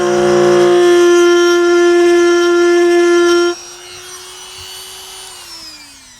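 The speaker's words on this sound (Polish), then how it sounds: "Przeszlifowaliśmy sobie kawałek." A power sander grinds over the exterior shell of a Niewiadów 126E caravan with a loud, steady whine, then drops to a lower, quieter hum as it spins down.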